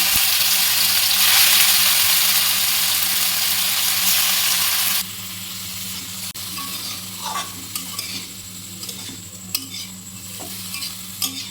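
Momos dropped into a little hot oil in a pan at home burst into loud, hissing sizzle that drops sharply partway through, settling into quieter crackling and spitting with occasional pops.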